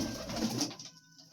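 A pigeon coos in a pigeon house, a short soft burst of cooing that fades out after about a second, heard near and alone.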